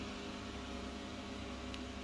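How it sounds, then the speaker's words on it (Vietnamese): A 2016 Tiger JPB-H 1.0-litre pressure rice cooker with a thick inner pot, running under pressure: a faint, steady hum and hiss that continues unbroken, with no voices. "Nghe cái tiếng nồi hoạt động nghe rất là mạnh mẽ đúng không các bác?"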